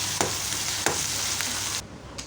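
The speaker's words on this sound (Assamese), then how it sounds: "মোৰ মছলাখিনি ভাজা হৈয়ে গ'ল তো এতিয়া মই ইয়াতে ঘুগনিখিনি দি দিওঁ" Ghugni tossed into a pan of fried spices, stirred with a few sharp scrapes of the spoon over a steady sizzle of frying, with no one talking.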